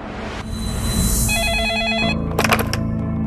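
A telephone rings loudly and close, a warbling electronic ring tone with repeated pulsing bursts against a background of tense drama music.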